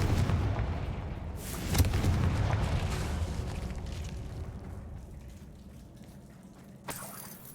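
Booming spell blasts from a fire-based blasting curse in the video game Hogwarts Legacy, a heavy rumbling explosion that swells and decays, then a sharper second burst near the end, with no talking.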